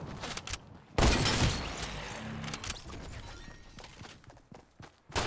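Fortnite gunfire on Nintendo Switch, rifle shots in a duos match, led by one loud burst followed by scattered, fainter cracks and impacts over a quieter stretch, with a sharp shot near the end.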